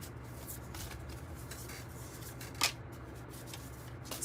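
Oracle cards being handled and pulled from a deck make a soft, continuous shuffling rustle up close, with one brief crisp snap partway through.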